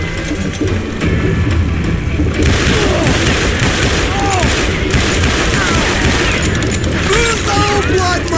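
Gunfire in the game Call of Juarez: Gunslinger during a shootout at a sawmill: loud, dense bursts of shots crack and boom continuously, with ricochet-like whines and voices mixed into the constant racket.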